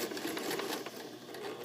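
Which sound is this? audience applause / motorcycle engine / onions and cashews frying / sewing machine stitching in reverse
sewing machine stitching in reverse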